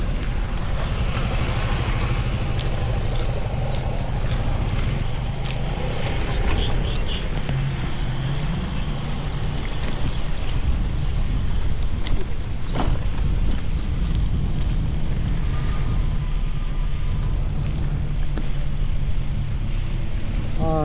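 Steady roaring wind noise buffets the microphone while riding a motorbike through Vientiane, a continuous loud rush with faint traffic and a voice talking underneath throughout.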